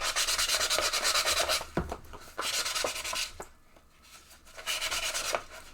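Sandpaper rubs steadily over a Japanese aluminum foil ball being smoothed of small pits, a close scratchy hiss in long strokes with brief pauses between passes.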